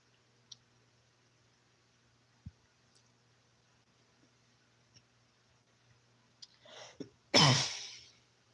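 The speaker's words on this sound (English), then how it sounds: "My bad for coughing." A quiet room with scattered small clicks, then a single sharp cough near the end, close and loud.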